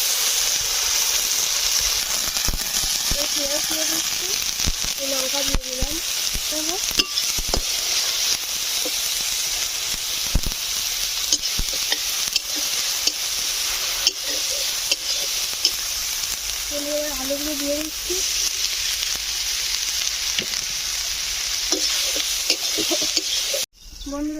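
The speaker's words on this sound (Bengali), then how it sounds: "কড়াই তেলটা গরম হয়ে গেছে এবার বাদামগুলো ভেজে নেবো" Nuts frying in hot oil in a wok give off a loud, continuous close-up sizzle and hiss that lasts throughout, with occasional light clinks and stirring movements and a brief abrupt bump at the very end.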